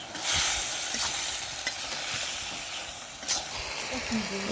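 Shrimp going into a frying pan with a curry of potato, eggplant and Malabar spinach, giving a steady broadband sizzle and hiss with a few soft stirring scrapes throughout.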